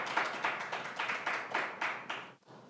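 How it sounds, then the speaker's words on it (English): A small audience at a law panel claps in a brief round, distinct individual claps close together at moderate volume, stopping abruptly at the end. "So please give her a round of applause."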